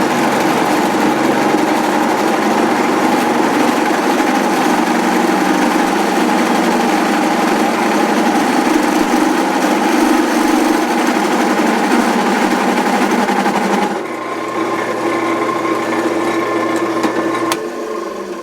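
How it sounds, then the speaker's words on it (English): A drill press runs with a steady, buzzing motor whine, loud and continuous, shifting to a lower, quieter hum near the end. "Having a drill press like this is awesome."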